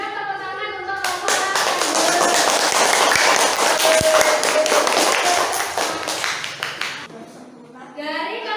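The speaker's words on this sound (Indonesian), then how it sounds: "Yuk, kita berikan tepuk tangan untuk kelompok" A class of fourth-grade children claps for a group in a classroom, dense clapping lasting several seconds before tapering off, with children's voices talking before and after.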